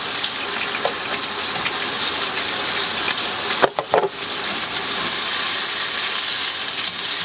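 Bacon sizzling and frying in a pan inside a camper, a steady crackling hiss throughout with a brief burst of sharper spitting near the middle as the meat is moved.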